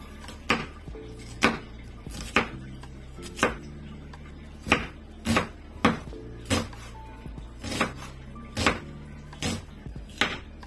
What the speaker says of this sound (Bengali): তো পেঁয়াজটাকে আমি প্রথমে ফালি করে নিয়ে পেঁয়াজটাকে কুচি করে নিব